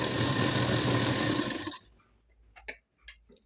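A sewing machine stitching a double seam on a katori blouse whirs steadily and fairly loudly for under two seconds, then stops, leaving a few faint clicks and handling taps.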